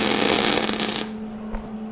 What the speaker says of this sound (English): Let's weld this side.